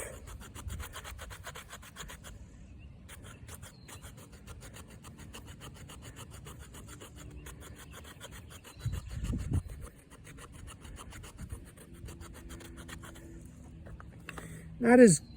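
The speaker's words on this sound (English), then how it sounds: "let's see if it'll scrape that wood. Let me try first the spine itself." The spine of a Brother Knives F017 drop point bushcraft knife scrapes debarked wood in a long, steady rasping rhythm, close up, with a brief louder rub partway through and a voice at the end.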